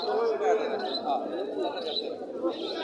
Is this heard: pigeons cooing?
yes